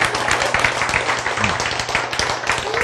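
Steady, dense applause from a gathered congregation fills the whole stretch, loud and continuous without pause.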